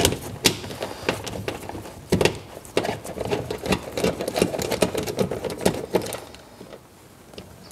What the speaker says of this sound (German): Ich habe jetzt hier einfach einen Kreuzschlitzschraubenzieher und löse jetzt einmal die Schrauben.